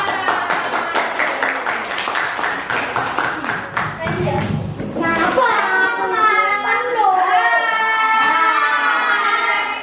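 Students clapping in a classroom for a presenting group, a few seconds of scattered hand claps, then children's voices talking over the rest.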